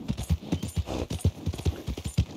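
Horse hooves clip-clop in a steady walking rhythm in Red Dead Redemption 2, close and clear with no talk over them.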